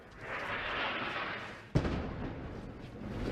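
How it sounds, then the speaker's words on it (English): An American airstrike explosion on a front line: after a rushing roar, one sudden deep boom lands, then a rumbling tail rolls on at a moderate distance. "Airstrike. Another airstrike."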